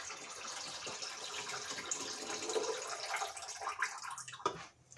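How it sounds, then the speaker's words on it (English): Water is poured out of a pot while cooking a green banana salad with chicken, giving a steady splashing rush into a sink that swells and ends with a few final splashes and drips, close and fairly quiet. "Let's throw the water out."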